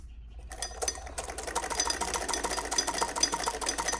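A sewing machine stitches a narrow channel along the edge of a sleeve to hold elastic. The motor starts after a short pause and then runs as a rapid, steady chatter of needle strokes, close and alone.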